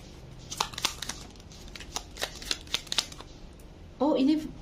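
A deck of playing cards is shuffled at about 4 seconds in a card-reading session, a short loud riffling burst. Earlier, a series of soft taps and rustles from cards being laid out is heard.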